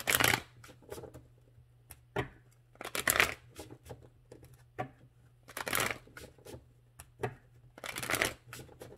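Tarot cards shuffled in close bursts, several quick riffling rustles separated by short pauses, quiet and near with no talk.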